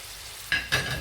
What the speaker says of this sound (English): So we'll allow this to cook very well. Allow it to cook very, very well.